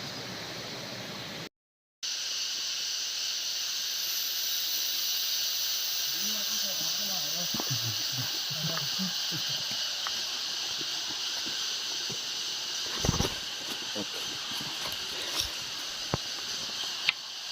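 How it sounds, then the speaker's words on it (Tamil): Forest rushing water on Pothigai hills, a distant waterfall, gives a steady, even hiss throughout after a brief gap near the start. Faint voices and a few scattered clicks sound over it. "எங்கேயோ ஃபால் சவுண்டு கேட்குது."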